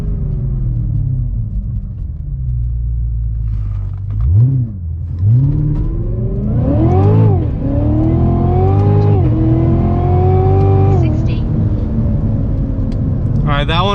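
Cadillac CTS-V3 launching from 0 to 60 in race mode, idling with a deep rumble before the engine revs hard, climbing through several rising gear pulls with brief dips at each shift, loud and close.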